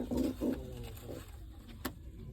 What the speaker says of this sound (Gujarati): અહીંયા તો આ છે એક નંબર કબૂતર